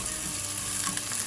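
Garlic sautéing in a pan gives a steady, close, even sizzle with light crackle throughout and no voices.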